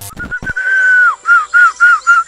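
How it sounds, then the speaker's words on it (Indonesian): A man whistles by a river in Kalimantan, Indonesia: one long, steady high whistle is followed by four short, evenly spaced whistles. The sound is close and loud, preceded by a brief scrape. "seorang pria tengah mencoba bersiul di sungai daerah Kalimantan"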